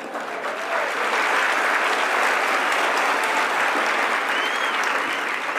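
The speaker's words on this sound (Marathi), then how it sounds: "आणि टाळ्या वाजवताना मरेलवाणी वाजायच्या ना" An audience at a motivational speech gives sustained, even applause with many hands clapping, rising after the first second and holding steady and full until the end.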